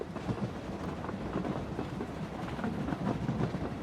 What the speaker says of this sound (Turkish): Tren de tam zamanında geldi.